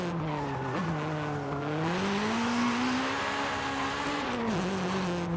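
A VTEC-equipped car in Forza Horizon 5 revs hard as it shifts from third to fourth gear, a loud, continuous engine howl with tonal pitch that dips briefly at each shift and then climbs again.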